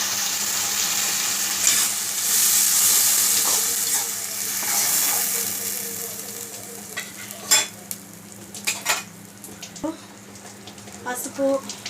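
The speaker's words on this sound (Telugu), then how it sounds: "ఈ పేస్ట్ మొత్తం వేసేసుకుంటాను" Spice paste frying and being stirred in a pan for a prawn and brinjal tamarind curry, with a steady broad sizzle that fades toward the end, then scattered clinks and scraping stirs.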